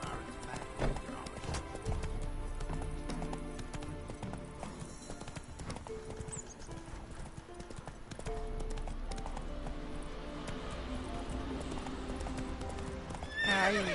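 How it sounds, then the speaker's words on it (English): A horse in The Witcher 3 gallops with loud, steady clip-clop hoofbeats, whinnying as it runs, with game ambience and music around it. "Ay, este caballo."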